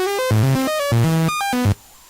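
A Korg microKORG synthesizer plays a stepping sequence of tones that jump up and down in pitch as an LFO modulates pitch and filter cutoff, with the brightness shifting along, ending abruptly.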